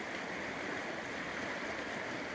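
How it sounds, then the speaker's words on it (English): The Blanco River runs bank full, giving a steady, dense rush of flowing water that fills the whole moment evenly, with no voices. "This is the Blanco River"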